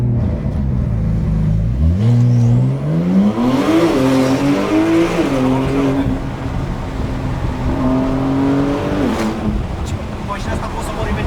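A Porsche Turbo S engine pulls hard with the windows lowered, its note climbing and shifting through gears, loud and close, with tire noise and people talking over it inside the car.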